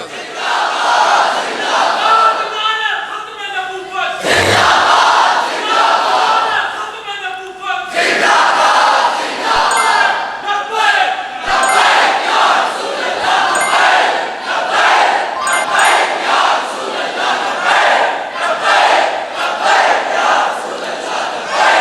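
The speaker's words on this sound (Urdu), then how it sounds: "میں نعرہ سناواں کہ لبیک یا رسول اللہ دا تے تاجدار ختم نبوت دا نعرہ" A large crowd at a religious gathering chants the slogan Labbaik ya Rasool Allah in loud, rhythmic call-and-response waves, voices surging together repeatedly over the full stretch, close and powerful with brief pauses between chants.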